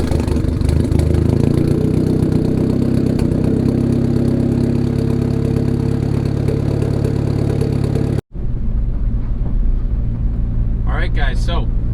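A turbocharged Honda Accord engine runs loudly with a steady, throbbing idle, then cuts out abruptly and restarts, settling into a lower running note as a brief chirp sounds near the end.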